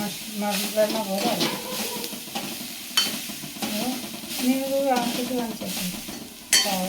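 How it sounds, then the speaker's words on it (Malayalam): A grated coconut mixture roasts in a pan for a bitter gourd curry, giving a continuous frying crackle with stirring scrapes while a voice talks over it throughout. "ഇതെല്ലാം കൂടെ വറുത്ത് ഗോൾഡൻ ബ്രൗൺ ആകുമ്പോൾ അരച്ചെടുക്കണം"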